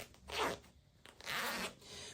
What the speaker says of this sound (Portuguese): Agora, a gente vai separar, então, o zíper aqui, ó.